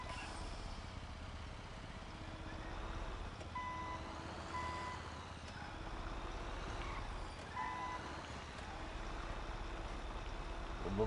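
Truck reversing beeps in the video game GTA V: a steady, repeating electronic tone sounds in short bursts over a continuous low engine rumble and game background noise.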